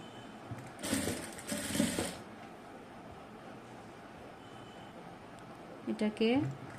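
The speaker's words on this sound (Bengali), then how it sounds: "এবার আমি একদম এই সাইড দিয়ে সেলাইটা করে নেব।" A sewing machine stitches lace onto a garment neckline, running in two short loud whirring bursts separated by a pause, then a voice speaks briefly near the end.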